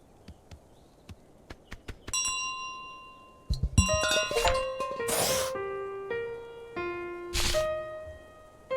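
A bell rings in Untitled Goose Game, with bright chiming tones repeating across several seconds over game noise, plus a few soft thumps and clicks before it.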